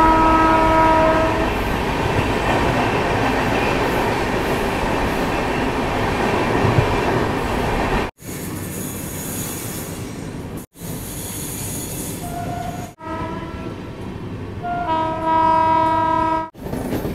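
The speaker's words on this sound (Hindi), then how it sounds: "देखिए हमारी गाड़ी कितना खूबसूरत कर्व ले रही है।" The Rajya Rani Express passenger train runs on rails between Patna and Saharsa, a loud steady rumble and clatter heard from on board as it takes a curve, with horn-like tonal blasts and brief squeals toward the end.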